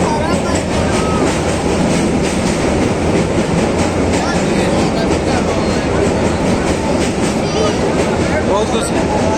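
A passenger train runs on rails with a loud, continuous rumble and rattling clatter that fills the whole stretch, and voices are faintly mixed in.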